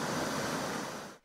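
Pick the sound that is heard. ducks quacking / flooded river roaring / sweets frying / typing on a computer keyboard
flooded river roaring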